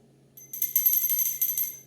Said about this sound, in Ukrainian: Лунає восьмий дзвоник.